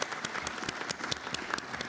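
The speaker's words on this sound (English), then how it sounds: "A round of applause for Councillor Samad" Applause in a city council chamber, a modest, fairly distant patter of clapping from a small group, even and unbroken for its short length.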